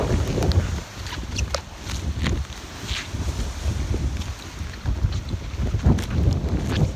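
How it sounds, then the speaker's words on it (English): Strong hurricane winds roar and buffet the microphone in loud, gusty bursts, with rustling carried along on the blasts. "Getting wind."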